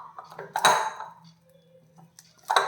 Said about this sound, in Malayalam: പാത്രം വെച്ച് ഇതുപോലെ പ്രസ് ചെയ്ത് കൊടുത്താൽ മതി കേട്ടോ